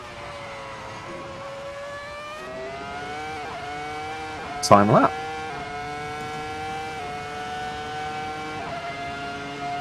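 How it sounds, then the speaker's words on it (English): A race car in a sim racing video game holds a steady, buzzing engine note with small pitch shifts, and a short burst of louder engine noise cuts in midway, while a voice briefly speaks. "It's a lot easier to drive this car around here than that McLaren in ACC"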